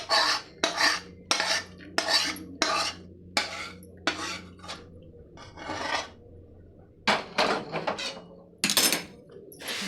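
A spoon scraping and stirring puffed rice coated in hot sugar syrup in a pot for laddus, a rhythmic series of rough, rasping strokes, close and fairly loud, with short pauses between bursts.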